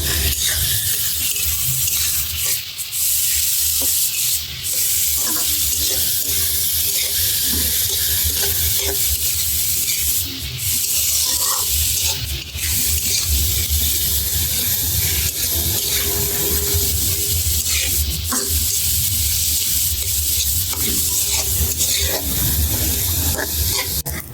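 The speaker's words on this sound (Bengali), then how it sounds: "মসুর ডাল ভেজে নিচ্ছি" Red lentils fry in a pan with a constant loud sizzle and hiss, interrupted now and then by stirring scrapes, with no talking.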